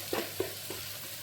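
Vegetables for a Himalayan basinge sabzi fry in a pan, with a soft steady sizzle and three stirring scrapes spaced a few tenths of a second apart, and no talking.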